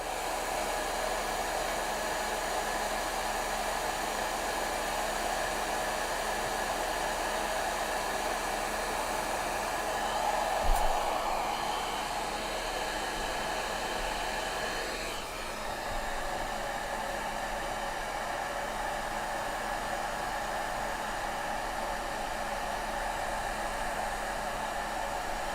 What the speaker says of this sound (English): we're gonna need a little more air dryer